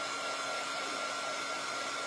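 Hair dryer blowing on a puppy, a steady close whooshing hum that runs unbroken through the clip at an even level, no talking.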